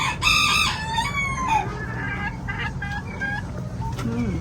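Free-range common fowl on a South Florida farm raised in the Jamaican tradition: a rooster crows loudly and clearly up close, while hens cluck and a person talks over the barnyard sounds.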